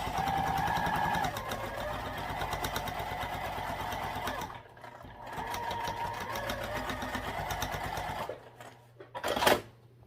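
Domestic sewing machine stitching back down the edge of a fabric bag: a fast, rhythmic mechanical chatter runs nearly continuously, pausing briefly twice, with a short louder rattle near the end and no talking.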